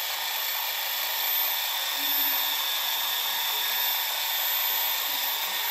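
A drone's motors run steadily during a weight-lifting test, giving a high, whining electric hum that holds constant with slight swells, fairly close and alone.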